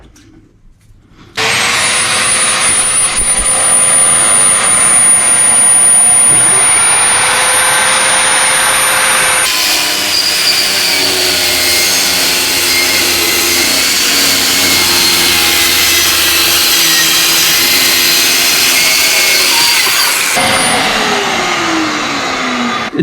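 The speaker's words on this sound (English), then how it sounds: "I'm gonna hook it up to my shop vac." A shop vac hooked up to a Harbor Freight Bauer compact saw for dust collection starts abruptly and runs with a loud, steady whine and roar, its pitch shifting partway through when the saw cuts, before winding down near the end.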